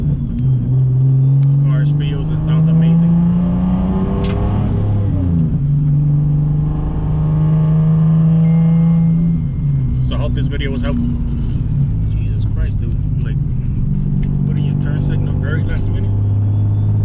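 A Nissan 370Z Turbo, fitted with new brake pads and rotors, drives along with a steady, loud engine drone from inside the car that rises and falls with the revs.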